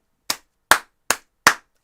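Four single hand claps, crisp and close, spaced about evenly with silence between them.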